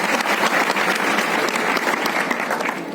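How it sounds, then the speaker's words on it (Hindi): Dense crowd applause from an audience at a religious discourse in Jabalpur, steady loud clapping that fills all three seconds and eases off slightly at the end. "जो जबलपुर वाले ताली बजा करके मौन हो जाए"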